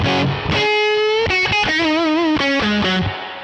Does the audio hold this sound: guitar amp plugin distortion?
yes